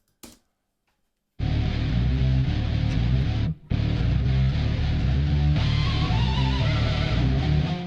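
After a short click and a pause, a sustained metal electric guitar lead rings out, washed in reverb and echoing delay, with a brief gap midway.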